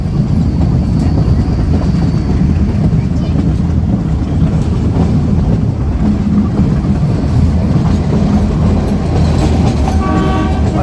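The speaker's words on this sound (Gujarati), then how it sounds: "અડધી કલાક લેટ ચાલી રહી છે ટ્રેન" A moving train from Sasan Gir to Junagadh rumbles steadily and loudly from inside a carriage, with constant low clatter and noise throughout.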